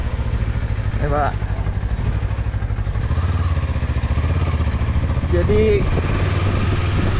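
A Kawasaki KLE 500 motorcycle engine rumbles close by with a steady low throb during light offroad riding, while someone talks briefly over it.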